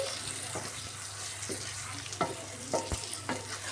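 Boiled eggs get stirred into a frying onion curry: a soft steady sizzle with several distinct scraping and knocking stirs of a spoon in the pan, close and moderately quiet.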